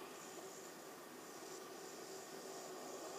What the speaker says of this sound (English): As the plane passes through the center